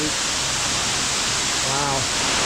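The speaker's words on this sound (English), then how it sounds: "Look at this waterfall, that is sick." Waterfall inside a cave in Bali, a steady broadband roar of falling water filling the space, with faint voices briefly audible beneath it.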